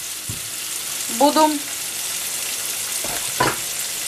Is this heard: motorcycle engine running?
no